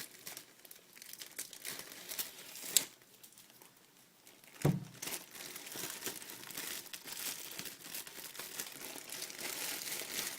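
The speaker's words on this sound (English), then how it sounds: "So now the eggs are in the bag, I'm going to seal it up." A plastic bag with raw eggs inside is crinkled and pressed shut for hotel-room kettle cooking, with soft rustling throughout and a couple of sharper crinkles near the start and midway.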